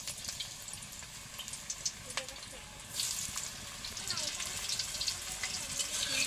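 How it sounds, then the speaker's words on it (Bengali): Jackfruit pieces go into hot oil in a wok, a soft sizzle that swells louder midway and holds steady, with faint clinks and a low background rumble, no voices. "তেল গরম হয়ে গেছে, এখন আমি এঁচড় ভেজে নেব"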